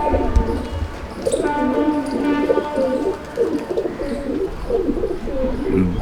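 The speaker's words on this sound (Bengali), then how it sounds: "একদম ডিপ চোখের মাদি পায়রা" A deep-eyed female pigeon at a loft coos close by in a run of repeated rolling phrases with short pauses, while a faint thin whistle-like tone sounds in the background.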